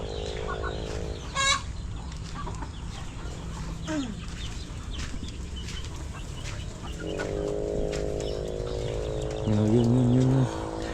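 Chickens cluck close by in a yard, and a large rooster adds a short crow partway through. Drawn-out calls and a louder burst of clucking follow near the end, while a voice speaks faintly in the background.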